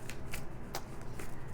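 Tarot cards being shuffled by hand, a few quick riffling bursts close up in a quiet room, with no talking.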